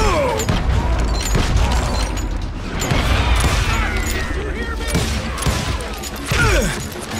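Gunfire in the Western shooter Call of Juarez Gunslinger, several sharp booming shots at irregular intervals amid game effects and background noise.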